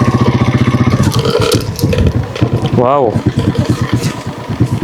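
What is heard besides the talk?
Rusi TC150 motorcycle engine during test ride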